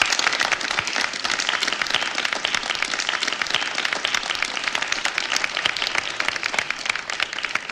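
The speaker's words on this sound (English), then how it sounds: "Go ahead and clap." A group applauds a program's first graduating class, a dense, loud stretch of clapping that stays steady and unbroken from start to finish with no voices.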